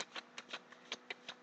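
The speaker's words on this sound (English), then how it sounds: "So I'm going to give a quick shuffle" A deck of tarot cards given a quick shuffle, a faint run of soft papery flicks and taps in an uneven rhythm, close by and quiet, with no talking.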